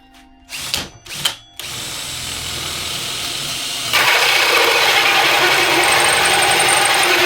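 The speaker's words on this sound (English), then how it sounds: "drill that first hole, eh?" A power drill bites into a 12V system panel, with a few short ratcheting bursts and then a steady high whine that grows louder and harsher as the bit cuts through, close and continuous.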